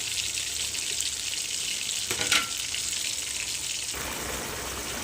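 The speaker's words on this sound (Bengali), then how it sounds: "এবার আমি এখানে দিয়ে দেবো 1 বাটি জল দিয়ে ঢাকনার সাহায্যে ঢেকে দিচ্ছি ভেজে রাখা আলু" Water poured into a pot of fried potatoes for chicken keema, then covered with a lid: steady loud sizzling of hot oil throughout, a brief splashing burst midway, and the frying settling into a slightly duller hiss afterward.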